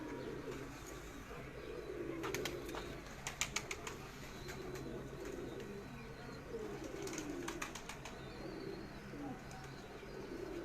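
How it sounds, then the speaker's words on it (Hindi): Badshah breed pigeons coo softly in a loft, a low murmuring that goes on throughout, with a few brief sharp taps and rustles in between. "बादशाह ब्रीड कबूतर है जी।"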